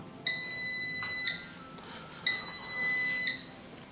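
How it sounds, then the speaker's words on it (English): Two long electronic beeps sound in succession from an air fryer timer, each a steady high tone lasting about a second, separated by a short pause. "We're going to wait for the final beep before we're going to open it."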